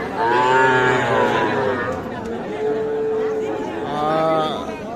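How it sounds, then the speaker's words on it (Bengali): Young calves bleat and moo repeatedly, loud and close, over a murmur of crowd chatter at the busy Ambari cattle market. "আমরা রয়েছি আমবাড়ি হাটে আর যেখানে ছোট ছোট বাছুর বিক্রি হয়"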